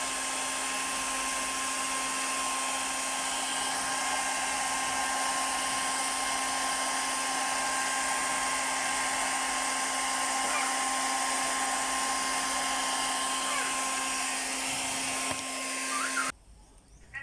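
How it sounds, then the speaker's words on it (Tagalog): A hair dryer blows steadily and loudly with a constant whine during a salon hair rebonding, running without pause until it suddenly cuts off near the end. "After ko nag-blower"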